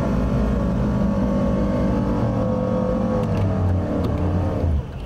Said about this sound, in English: He's gonna burn his engine up.